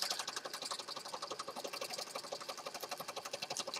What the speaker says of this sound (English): I'm gonna sew down all the layers.